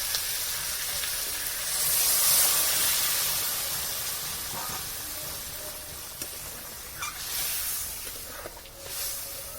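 Hot water is poured into a pan of frying figs with green chilli and prawns, and a steady, soft sizzle and hiss follow, with small crackles over the continuous steam.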